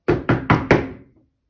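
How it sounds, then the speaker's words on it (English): Four firm knocks on a wooden door in quick, even succession, close and loud, with a short ringing decay after the last and no voices. "The wolf knocked on Granny's door with a"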